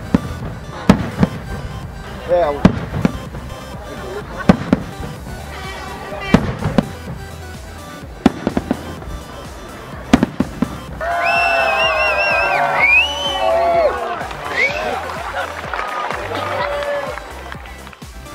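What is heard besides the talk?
midnight fireworks exploding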